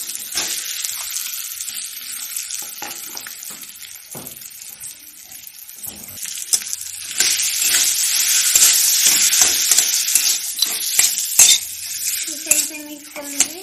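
Potato mixture with peanuts sizzles in a frying pan while a spatula stirs and scrapes through it, steady close frying hiss swelling midway with repeated clicks of utensil against the pan.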